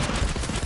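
Dense, continuous gunfire in the Fortnite Creative video game, a rapid volley of overlapping shots filling the whole moment, fairly loud and close with no talk over it.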